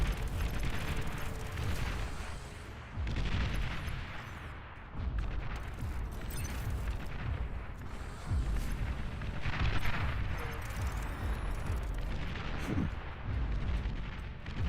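Artillery barrages in the real-time strategy game Beyond All Reason: a dense, continuous roar of overlapping explosions and booming shell impacts, loud and sustained throughout with no pauses.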